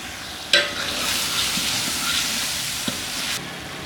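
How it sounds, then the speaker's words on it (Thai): Indian chili powder, masala, curry powder and turmeric sautéing in a large pot of beef curry for seventy people, a continuous hiss of frying with a sharp clatter near the start and a faint knock later. "ใส่พริกผงอินเดีย มาซาล่า ผงกะหรี่ ขมิ้นผง แล้วก็ผัด"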